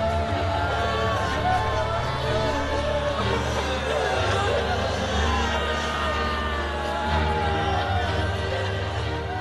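Roman crowd stirring and clamoring at Caesar's funeral pyre, a dense, continuous roar of many voices with shouts rising above, loud and close throughout.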